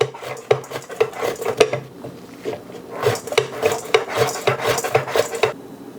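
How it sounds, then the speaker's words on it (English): Vegetables being sliced thin on a mandoline for pickling, a close series of rapid scraping strokes that come in two bursts separated by a brief pause, with no speech. "we're going to use the mandolin again because we want everything nice and thin"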